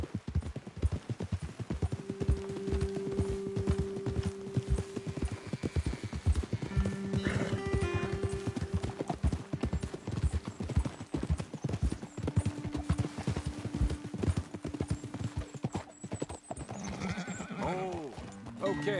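Horse hooves clip-clop in a steady walking rhythm in the video game Red Dead Redemption 2, with occasional snorts, a whinny and a low humming tone; speech is heard faintly in places.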